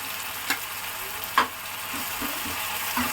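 Ground coriander leaf, green chili and garlic paste fries in a hot pan with a steady soft sizzle, punctuated by a few light clinks and stirring taps, close and quiet with no talk.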